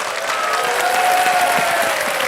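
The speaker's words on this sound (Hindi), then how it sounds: "तालियां बज जाएं इनके लिए।" Studio audience on a Hindi TV quiz show applauding a contestant's win, loud sustained clapping with some crowd cheering and a thin tonal musical line running through it.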